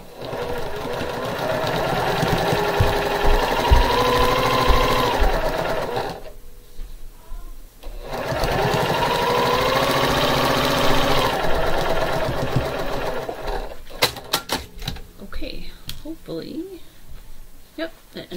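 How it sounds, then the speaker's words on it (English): Sewing machine running a quarter-inch seam to join leaf sections of a quilt block, two long steady humming stitch runs separated by a pause, close and loud, followed by light clicks and handling noises as a person talks. "I'm going to start on the end and sew a 1/4 inch all the way down and join the leaf"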